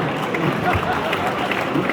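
A comedy club audience claps and murmurs in a steady, dense wash of applause that fills the whole stretch at moderate loudness.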